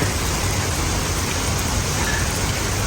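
Steady, dense rain pours outside a hospital, a continuous even hiss filling the whole moment with no other sound standing out.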